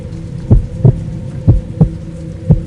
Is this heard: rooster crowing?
no